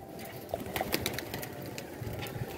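Pigeons coo steadily at close range, with soft calls repeating over a continuous low murmur and occasional brighter chirps.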